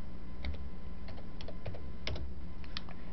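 Someone types a short command on a computer keyboard: a few quiet, separate key clicks at an uneven pace with no talking.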